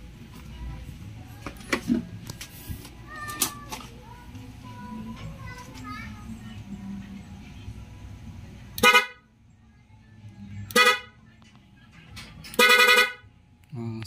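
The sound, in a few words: car horn honking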